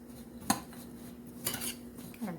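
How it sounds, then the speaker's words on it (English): A utensil scrapes and clinks against a bowl as raisin or currant filling for flaky pastry is mixed, with a few brief, close knocks and rattles. "I'm just going to give this a little mix."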